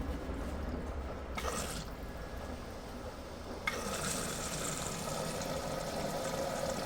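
Water pouring steadily into an LG washing machine drum as it fills, a continuous rushing wash of liquid that grows fuller and brighter partway through, close by with no talking.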